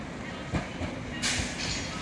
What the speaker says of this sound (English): Arriving in now is another Transport for Wales,